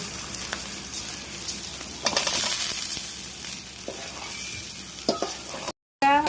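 Steady sizzling and crackling of whole spices, including cardamom, frying in oil for beef tehari, with occasional scraping and stirring clicks, close and continuous.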